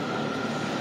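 A DC Metro yellow line train rolls into the station, giving a steady broad rumbling roar that is moderately loud and continuous for a brief moment.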